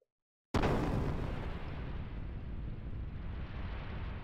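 A heavy gun blast strikes a warship in Xenogears: a sudden loud explosion after a moment of silence, followed by a long, dense rumbling roar that slowly fades without dying out.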